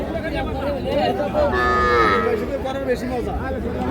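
Young bull and heifer calves moo repeatedly, several overlapping low calls with one louder, drawn-out bellow in the middle, amid crowd chatter at a busy cattle market.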